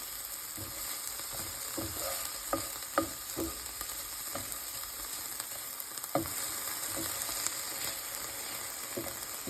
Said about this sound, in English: peppers to my skillet. And we're going to let that just cook a little bit in the pan